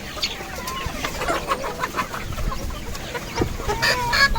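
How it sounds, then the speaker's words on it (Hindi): Chickens clucking and cackling as they peck at spinach, several birds close by with overlapping calls over a continuous rustling background. "ये मुर्गियाँ पालक बहुत शौक से खाती हैं"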